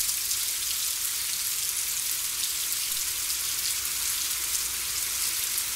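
Steady rain falls in a Costa Rican rainforest along the Sarapiqui River, a dense, even hiss of drops that stays constant and fairly loud throughout with no talk.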